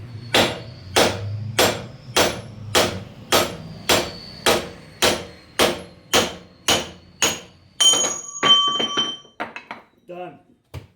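A rusted LBZ torsion bar is beaten with a hammer: about a dozen loud, close metallic blows land in a steady rhythm, then give way to lighter clinks and scattered knocks.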